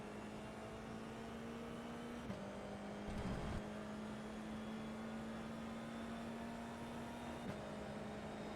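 An F4 open-wheel race car engine in the iRacing sim at Imola, a steady, droning high-revving note that briefly dips at gear changes under braking before climbing back as the throttle reopens, constant and fairly close throughout.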